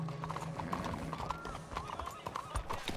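Horse hooves clip-clop steadily in Red Dead Redemption 2, a close, rhythmic trot over continuous background game sound and a low hum, with occasional louder hoof strikes.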